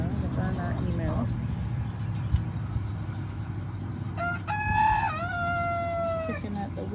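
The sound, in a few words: guinea fowl calling on a farm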